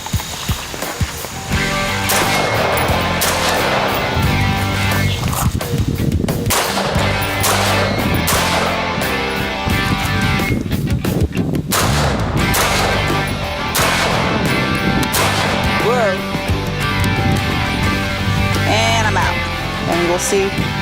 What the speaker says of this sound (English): fire a few shots and do it to the other side just to get used to it